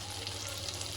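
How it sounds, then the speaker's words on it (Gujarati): Stuffed baby eggplants frying in oil in a pressure cooker, a steady close hiss and sizzle, continuous and even. "આપણે સરસ બધો રવૈયો અંદર વઘારી દીધો છે અને તેલમાં ચડે છે"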